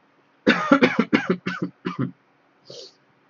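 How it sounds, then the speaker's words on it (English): A person coughs in a rapid burst of about six harsh coughs, then gives one short throat-clearing hack after a brief pause. The sound is close and clear against a quiet background. "Don't mind me coughing."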